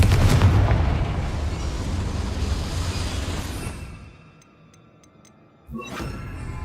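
A loud fire-blast spell explosion from Hogwarts Legacy, a sustained roaring burst that fades into a quieter mine ambience with faint ticks, then a second sharp impact near the end.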